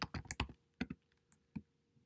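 Keystrokes on a computer keyboard on a Mac during data entry, a quick burst of four or five clicks followed by a few sparse, isolated taps with quiet gaps between, close and fairly soft with no voices.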